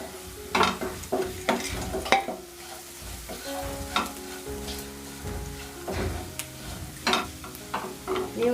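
Mutton boti pieces fry in oil spiced with chilli and coriander powder while being stirred, giving irregular scraping, clattering strokes over a soft, steady sizzle.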